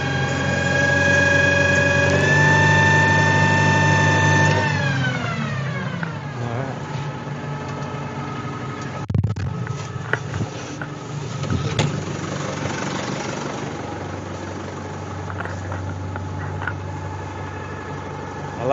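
An old tractor running a worn Bush Hog batwing mower, its engine droning then climbing in pitch as it revs up to working RPM and settling into a steady loud run, with faint clanks over it.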